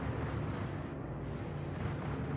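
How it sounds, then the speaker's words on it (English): A broad, roaring explosion as the arrow blows up, a steady rumbling blast that fills the whole clip at moderate loudness with no voices over it. "Oh, there's an explosion."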